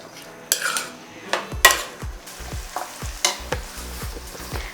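Onions and green chilies sizzle and fry in oil in a pan while a utensil stirs and scrapes against it in repeated clanks and knocks, close and fairly loud.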